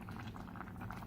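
Water bubbling at a low boil beneath rice in a covered pot for pilaf, a steady, soft, close churning with no talk.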